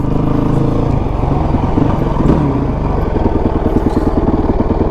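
A Honda CRF450X motorcycle engine is left running, giving a loud, close, continuous rapid putter with clattery mechanical texture and no talking.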